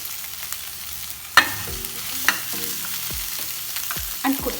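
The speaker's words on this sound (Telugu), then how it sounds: "అన్నీ బాగా మిక్స్ చేసుకుని మళ్ళీ ఒక 5 మినిట్స్ కుక్ చేసుకుంటాం" Paneer bhurji frying in a pan with chili powder under a soft steady sizzle, punctuated by a few sharp clanks and scrapes of a spoon stirring, close and quiet, with no talking.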